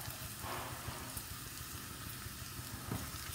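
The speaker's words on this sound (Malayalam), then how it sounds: "ഇതിലേക്ക് ഒരു മൂന്ന് രണ്ട് കറിവേപ്പിലയും കൂടി ചേർത്ത് കൊടുക്കാം" A few curry leaves dropped into hot oil for a Kerala prawn and raw mango curry tempering, giving a faint, steady crackling sizzle with small pops, quiet and close.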